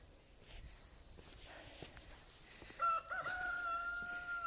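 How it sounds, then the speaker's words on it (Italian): A rooster crows in an Abruzzo village, a single drawn-out call that starts partway through and carries over faint footsteps and outdoor ambience. "Là sopra c'è il gallo."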